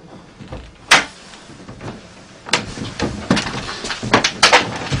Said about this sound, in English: they can shut this door here